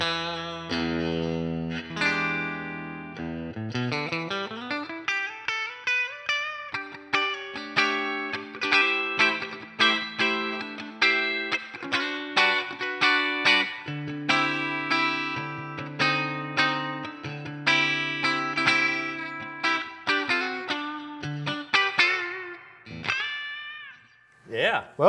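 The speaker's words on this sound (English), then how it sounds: "And last but not least, single coil bridge pickup." Fender American Professional Classic Stratocaster electric guitar played on its single-coil bridge pickup through effects, with bright plucked notes, chords and slides in a lively phrase, close and clear, fading out with a final bend.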